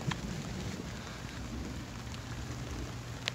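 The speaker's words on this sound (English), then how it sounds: "Come on, it's raining." Steady rain falling outdoors, a dense even patter with a few sharper drop hits near the start and end, and no talk over it.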